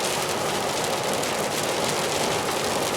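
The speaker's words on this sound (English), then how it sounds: "as you guys can see, it's starting to rain." Rain falling on a vehicle driving the I-10 East highway, a loud continuous broadband roar of tire and road noise mixed with spattering drops, steady and unbroken.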